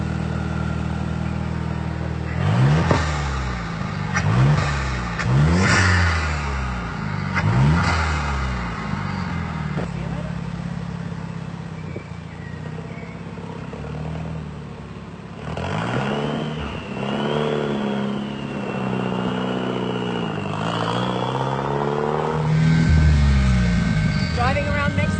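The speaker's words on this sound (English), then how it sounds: "Driving around Mexico City in the VUL, the supercar here." A VUL Mexican supercar with a manual gearbox revs repeatedly while driving around Mexico City, its engine rising and falling in loud surging pulls close by, with a person talking over it.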